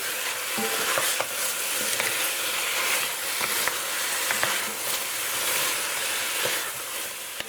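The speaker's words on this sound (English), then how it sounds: "So I'm going to give this a mix to incorporate all of those ingredients." Guyanese pepperpot ingredients are stirred with cassareep in a pot. A spoon scrapes and the food shifts in a steady sizzling hiss, broken now and then by sharp clinks, all close and fairly quiet.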